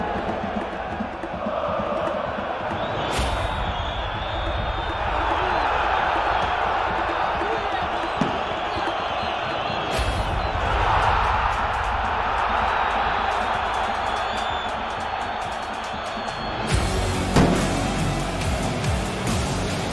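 Football derby stadium crowd for Partizan, a dense continuous roar of thousands of fans with chanting swells and surges, loud and sustained throughout, briefly spiking near the end.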